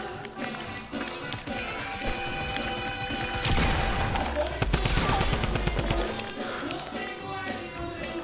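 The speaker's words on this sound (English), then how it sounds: "This guy's trying to shoot me from up top." Gunfire from an enemy player in the video game Fortnite, rapid bursts of sharp cracks and taps clustering into a loud barrage midway, then thinning out, with game noise and a voice in the mix.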